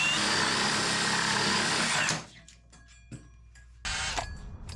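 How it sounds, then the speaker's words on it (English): A power drill boring through a basement wall from the inside whirs loudly and steadily for about two seconds, then stops, leaving quiet with a few faint clicks before a brief burst of noise returns. "I'll drill my hole from the inside"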